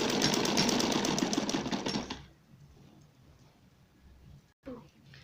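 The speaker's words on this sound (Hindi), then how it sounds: "सबसे पहले हम ये सी देते हैं इसके सिरे।" A sewing machine stitches the edges of a gown's frill with a loud, fast, steady whirring chatter for about two seconds, then stops. A quiet room and a single soft knock follow.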